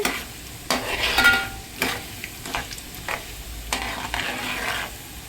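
Mixed lentils, including black gram, green gram, pigeon pea and chana dal, frying in a pan with stirring for rice upma, giving a steady sizzle broken by several loud scraping strokes of a spoon. No one speaks.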